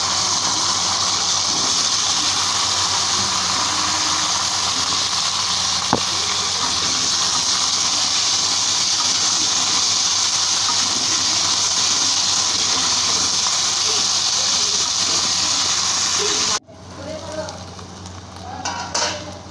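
Potato and chopped vegetables sizzle in hot leftover fish-frying oil tempered with cumin seeds, giving a loud, steady, close hiss that runs unbroken for about sixteen seconds before cutting off abruptly to a much quieter background.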